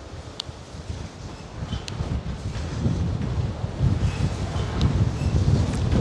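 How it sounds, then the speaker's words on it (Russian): Strong wind gusting across a seaside embankment in Balaklava, Crimea, a steady loud low roar buffeting the microphone and swelling toward the end, with no voices. "Вот это ветер разыгрался. Боюсь, что-то оторвет."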